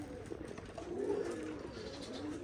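Soft cooing of Giribaj pigeons at a pigeon farm blends into a steady outdoor background, low and continuous rather than loud, with no clear talking.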